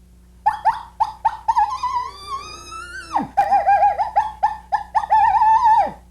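Elk bull call blown through a medium latex mouthpiece with a notch for higher pitch, giving a series of short rising squeals and whistling bugles, close and clear, some drawn out into long wavering tones.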